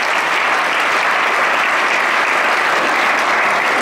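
Dense, steady audience applause fills a stand-up comedy show, loud and continuous from start to finish with no voices over it.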